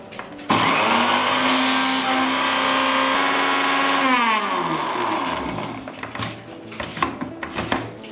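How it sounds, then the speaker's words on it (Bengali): A kitchen blender grinds granulated sugar into fine icing sugar, a loud steady whir starting abruptly, holding for several seconds, then winding down as the motor slows and stops, followed by faint clatter. "এখন আমি আরেকটু ব্লেন্ড করে নেব"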